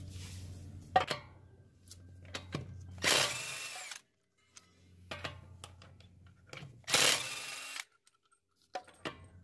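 An electric impact wrench loosens 22 mm lug nuts on a Toyota Tundra in a garage, with loud rattling hammering bursts separated by quieter whirring and clinks of metal parts, close and without speech.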